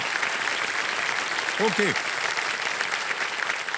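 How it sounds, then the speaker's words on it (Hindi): Women in a game-show studio audience clap in a steady, dense patter that runs throughout, with someone briefly speaking over the applause. "जितनी महिलाएं बैठी हैं वो हंस रहे हैं ताली बजा"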